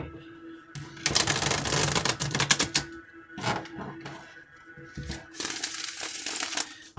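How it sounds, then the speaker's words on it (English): A deck of tarot cards is shuffled by hand in bursts of rapid riffling and clattering, three distinct flurries separated by short pauses, close and clear with no talking. "My hands are not big enough to shuffle these cards normally."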